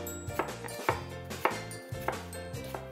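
A knife chops an apple into small pieces on a board in a quick, regular series of crisp thuds, close and clear; no talking.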